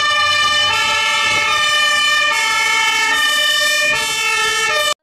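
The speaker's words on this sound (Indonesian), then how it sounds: "Yang ini pemadam kebakaran teman-teman." A toy fire truck blares a loud, steady electronic siren with a harmonic tone that swells in repeating cycles, played close and continuously with no talk.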